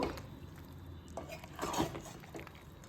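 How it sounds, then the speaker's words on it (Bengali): Whole and chopped onions stirred in a pot of water for chicken dopiaza, a spoon scraping and clinking against the metal in a few short bursts, close and fairly quiet. "এখন আমি এটাকে নেড়ে নেব।"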